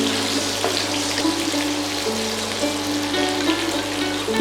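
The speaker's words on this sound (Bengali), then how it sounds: "আলুগুলোর পরে ডাঁটাগুলোকে ভাজতে দেব।" Vegetable stems, carrots and potatoes frying for a mixed vegetable dish in a pan, a steady close sizzle and hiss with faint clinks, continuous and without voices.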